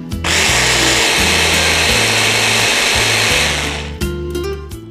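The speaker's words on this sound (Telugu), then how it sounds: "సో మళ్ళీ ఒకసారి బ్లెండ్ చేసేద్దాం." A kitchen blender whirs loudly and steadily while blending a berries and oatmeal smoothie, then stops abruptly near the end, leaving brief rattling and clinking.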